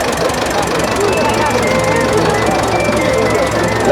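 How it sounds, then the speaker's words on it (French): A tractor engine runs loud and steady with a knocking mechanical drone at a rural old-times show in the Couserans, continuous throughout with crowd noise around it. "Là, on a un tracteur au milieu."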